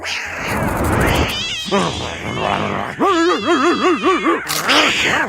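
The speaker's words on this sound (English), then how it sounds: "there are also cats at the pound" Cartoon cats at the pound in Family Guy meow and yowl loudly, a strained caterwaul followed by a rapid series of wavering, whiny meows, close and prominent.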